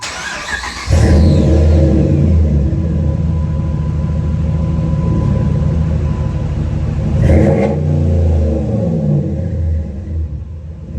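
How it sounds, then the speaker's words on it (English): A 2006 Dodge Ram 2500 pickup truck engine fires up and settles into a loud, deep exhaust rumble, with a brief rev partway through, no talking. "I'm gonna turn it on so you can hear this exhaust"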